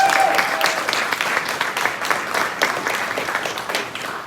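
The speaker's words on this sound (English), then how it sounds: "Another round of applause for all our fantastic combos this evening." Applause from a high school jazz social audience for the student jazz combos, a crowd clapping steadily with sharp individual claps, lively at first and thinning slightly toward the end.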